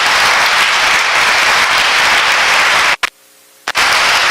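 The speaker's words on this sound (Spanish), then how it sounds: "Vamos a darle un aplauso al Señor, que nunca le da un aplauso por eso" A church congregation at a Sunday parish Mass in Lourdes, Táchira, Venezuela, bursts into loud, dense applause that roars for about three seconds, cuts to near silence briefly, then resumes.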